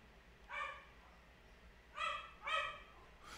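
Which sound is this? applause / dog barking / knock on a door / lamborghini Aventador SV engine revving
dog barking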